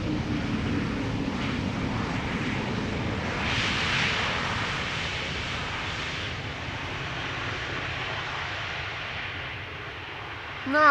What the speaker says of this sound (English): we're looking at an E2 that is landing on center